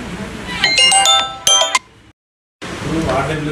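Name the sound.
mobile phone ringing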